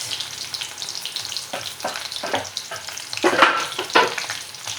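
Garlic and onion fry in a pan for caldereta, a close, crackling sizzle broken by bursts of stirring and scraping, with no talk.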